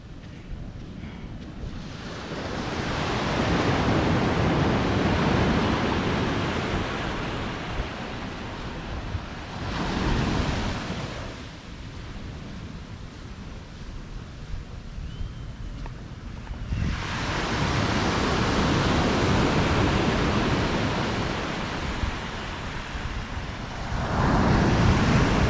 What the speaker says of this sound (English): This is Shrimp Beach